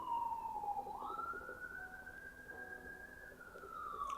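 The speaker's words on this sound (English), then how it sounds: "and the sirens come" Emergency vehicle siren wails outside, a single steady rising-and-holding tone that sweeps up then sustains, moderately distant and continuous throughout with no talking.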